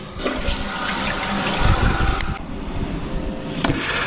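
A household toilet flushes after its cistern fill level was adjusted, a close, steady rush and gurgle of water that swirls down, then changes to a softer refilling hiss with a couple of clicks.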